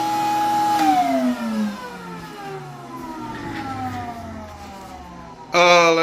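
Electrolux vacuum cleaner fitted with a camel hair nozzle, a whining motor whose pitch slides steadily downward as it winds down, then a sudden loud high whine as it surges back up at the end.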